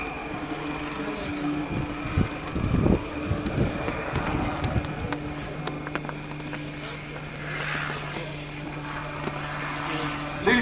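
HAL Light Utility Helicopter flying low-speed manoeuvres at the Aero India airshow, a steady rotor and turbine drone with a held engine tone, distant crowd noise and a brief louder burst early on.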